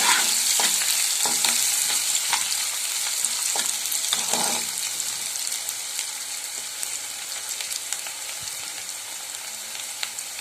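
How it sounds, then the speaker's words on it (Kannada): Onions sautéing in oil in a pan for a green peas gravy, a loud, steady close sizzle with intermittent scraping stirs throughout, no voices. "ಈರುಳ್ಳಿ ಸ್ವಲ್ಪ ಕಲರ್ ಚೇಂಜ್ ಆಗೋ ಥರ ನಾವೇನು ಮಾಡಬೇಕು ಇದನ್ನು ಎಣ್ಣೆಯಲ್ಲಿ ಬಾಡಿಸ್ಬೇಕು"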